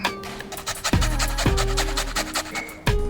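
A lime being zested on a grater gives quick, close scraping and rasping strokes in a steady rhythm, with a few heavier knocks between them.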